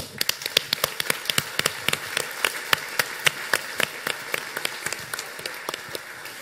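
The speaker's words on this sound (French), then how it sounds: "Applaudissements!" Scattered hand claps from a small audience at an agile conference keynote in Grenoble, sparse and uneven sharp claps spread over several seconds, moderately close with no talking.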